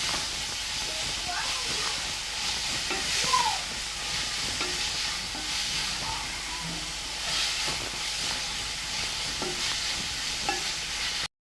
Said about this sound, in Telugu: ఈ క్యారెట్ పచ్చివాసన పోయేంత వరకు బాగా నెయ్యిలో ఫ్రై చేసుకోవాలి.